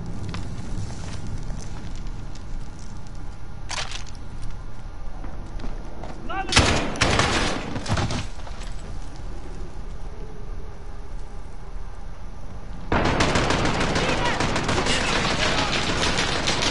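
Gunfire in the video game Call of Duty Modern Warfare: scattered bursts of shots over a constant noisy battle background, with a brief burst early, a denser cluster midway and heavier sustained firing near the end.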